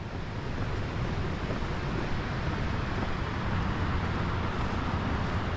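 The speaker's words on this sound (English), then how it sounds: "A decent river though." A river rushes steadily beside a Pacific Crest Trail path, a dense, constant broadband roar with no pauses, heard close and loud with no voices.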